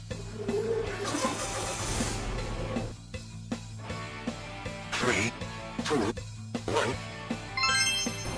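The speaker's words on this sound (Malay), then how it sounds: "kita start kereta" A car engine is started and left running with engine flush oil added to clean out carbon and sludge, a steady mid-pitched hum with a few louder revs, heard close up without talk.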